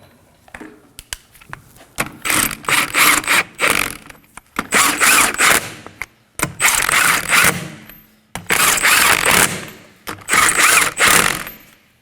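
Ratchet wrench snugging rear upper control arm bolts on a 2011-2016 Kia Optima, close rapid clicking bursts repeated in several runs with brief pauses between, no talking.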